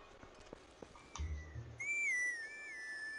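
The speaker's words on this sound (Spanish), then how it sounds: "Gracias al silbato de Ilia." Ilia's whistle in Zelda: Twilight Princess sounds as a clear, sliding melodic tone after a soft thud and faint hoof-like taps, the whistle rising and wavering for over a second at moderate volume.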